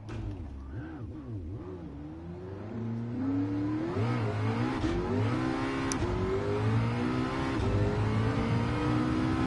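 Race car engine in Gran Turismo 7 revving and climbing through gears, pitch sweeping up and dipping with each shift, loud and steady throughout with no talk over it.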